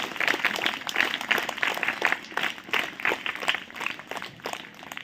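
An audience claps together in a room, a quick run of sharp, fairly faint claps with a steady rhythm and uneven loudness that carries on throughout.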